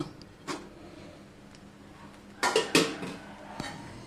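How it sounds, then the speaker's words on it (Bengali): A metal lid comes off a cooking pot with a few sharp clanks and rattles, one near the start and a cluster of louder knocks later, in an otherwise quiet kitchen. "এখন আমি ঢাকনাটা খুলে নেব।"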